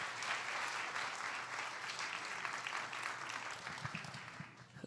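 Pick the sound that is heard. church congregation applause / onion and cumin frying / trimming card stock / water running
church congregation applause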